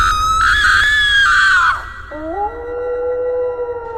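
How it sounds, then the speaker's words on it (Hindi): A howling cry in a jungle, said to come from a wolf: a loud, sustained tonal wail that bends downward, breaks off briefly, then resumes as a lower drawn-out howl, heard alone and close. "तभी जंगल में भेड़िए के चिल्लाने की आवाज आने लगती है"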